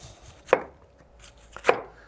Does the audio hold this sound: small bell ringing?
no